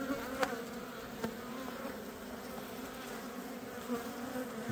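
Dense, steady buzzing of many honeybees from an opened, crowded hive, close and continuous throughout with a few brief sharper bumps and clicks, no voices.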